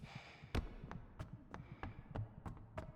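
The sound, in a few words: heartbeat sound effect in the video game Idols of Ash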